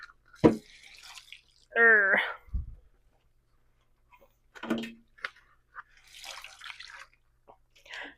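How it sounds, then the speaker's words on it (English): Excess water drips and splashes as hand-dyed chocolate brown yarn is squeezed over a dye bath, with scattered wet drips between long quiet gaps and a short vocal exclamation. "So let's remove the excess water."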